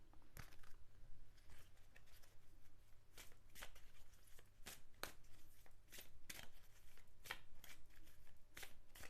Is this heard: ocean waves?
no